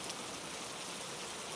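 Quiet, even rain against leaded glass windows over a cobblestone street, a soft steady hiss of drops, faint and unbroken with no voices.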